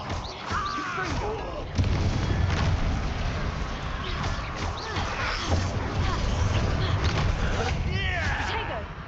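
Spell explosions from Confringo casts in the video game Hogwarts Legacy, bursting and crashing amid other in-game combat noise, with a voice shouting over them throughout.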